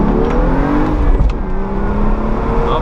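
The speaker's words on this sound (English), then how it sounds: "let's just do a good first gear rip" A BMW 435i pulls hard in first gear, heard from inside the cabin as a loud, continuous engine note that climbs steadily in pitch through the whole clip.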